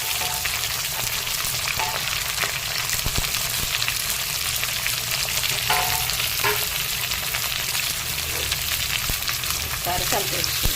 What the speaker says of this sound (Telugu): ఇప్పుడు తెల్లగడ్డలు ఉల్లిపాయలు, పచ్చిమిరపకాయలు ఏవైతే ఉన్నాయో అవి కూడా వేసేసుకున్నాం.